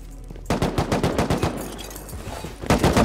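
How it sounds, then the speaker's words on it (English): Rapid automatic gunfire in the survival video game Rust, a loud burst of close shots followed by a pause and then another burst, with no talking. "I'm shooting out the bag in there."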